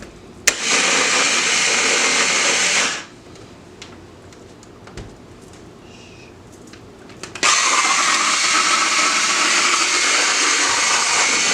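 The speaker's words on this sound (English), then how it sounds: "A good smoothie blender." A smoothie blender whirs loudly for a few seconds, cuts off into near quiet with a few small clatters, then roars back on with a steady high-pitched motor drone.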